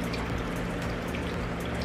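Alcohol poured through a funnel makes a steady, close trickling splash that runs unbroken for a couple of seconds, with no talk over it.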